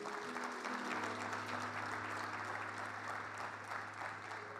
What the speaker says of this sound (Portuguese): Quem pode aplaudir a Jesus aí?